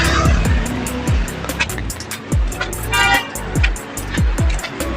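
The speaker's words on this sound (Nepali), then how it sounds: "यसो बाइक आइरहेको छ।" Motorbikes travel a mountain road near Barabise in Nepal, loud and close, with repeated falling-pitch engine whines as they pass one after another, plus bursts of revving and rumble.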